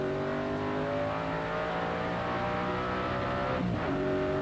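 A 4.5-litre V8 TVR Tuscan race car, recorded onboard during a 1994 Tuscan Challenge race, holds a steady, loud, rich engine drone throughout, with a brief dip and shift in tone near the end as it changes pitch.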